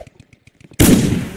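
A grenade blast in a video game erupts suddenly after a few faint clicks, a loud, close, broadband boom that rumbles on and decays slowly over the following half second.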